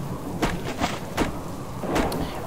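Rain falling in the survival game Subsistence, a steady wash of noise with several soft thuds and brief louder bursts spread across it, no voices.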